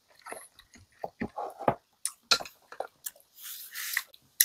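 Perilla seed sujebi soup being eaten, with soft wet slurping, biting and chewing sounds in irregular close bursts, some clinks of a spoon or dish, and no talking.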